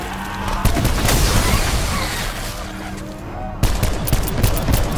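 Rapid gunfire from Call of Duty Black Ops 4 Zombies, with loud, dense bursts of shots and booms, a short lull, then another burst of firing.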